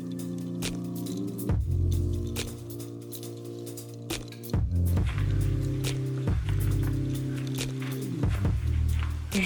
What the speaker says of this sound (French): je vais mixer un peu